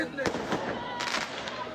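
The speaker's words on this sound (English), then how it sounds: "Who's letting off the fireworks?" Outdoor fireworks going off as a few sharp pops and crackling bursts, fairly distant, over steady background noise.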